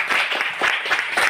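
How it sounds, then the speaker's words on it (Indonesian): A classroom of students claps together, brisk, uneven hand claps packed close in a lively burst that carries on without talk. "Tepuk tangan buat kalian."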